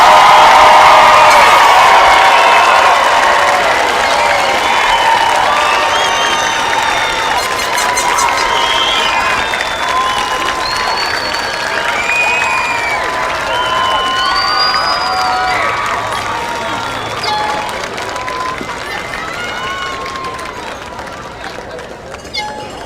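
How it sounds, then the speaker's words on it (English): Large crowd at the 2025 Haddon Heights High School graduation applauding and cheering for the graduates, loud sustained clapping with whoops and shouts that gradually fade over more than twenty seconds. "let's please have a round of applause for your class of 2025 graduates."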